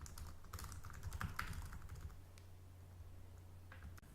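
Keys clattering on a computer keyboard in a quiet room, a burst of quick, irregular taps that thins out toward the end, with a steady low hum underneath and no voices.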